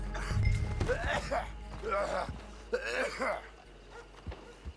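In the video game Red Dead Online, a character gives a few rough coughs and throat sounds mixed with talking voices, moderately loud and close.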